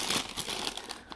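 A bag of Teddy Grams cocoa snacks is pulled open by hand, giving a close, continuous crinkling and tearing of plastic packaging for about a second.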